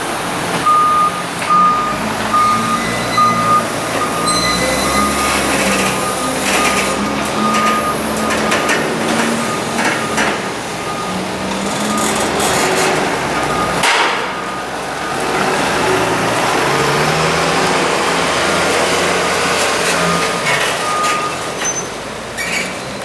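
A tractor hauling the first load of silage in a new silage trailer arrives at the clamp, with a steady loud engine drone, repeated reversing beeps and clanking metal knocks throughout.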